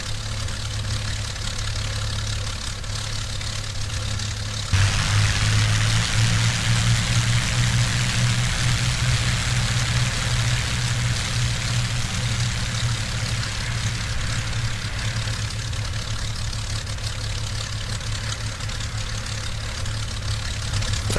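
P-40M fighter engine running in the IL-2 flight game, a constant heavy, low droning rumble that steps up in loudness after about five seconds and then holds steady.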